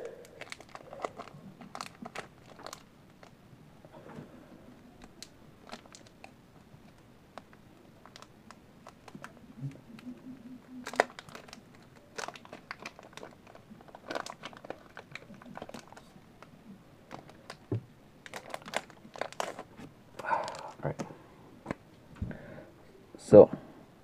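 A Pokémon Fates Collide booster pack's foil wrapper being crinkled and torn open close up, in scattered crackling bursts that grow louder toward the end, with a voice talking quietly in between.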